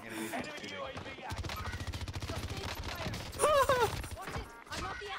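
Rapid automatic gunfire in Call of Duty Warzone rattles in sustained, dense bursts for several seconds, with game voice callouts and other sounds mixed in.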